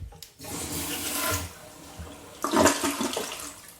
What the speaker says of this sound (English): And sure, Andrew, I'll do a flush for you.